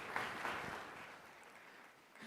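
Audience applause at a film and TV market festival, a faint, distant patter of clapping that starts with a few sharper claps and fades out, with no talk.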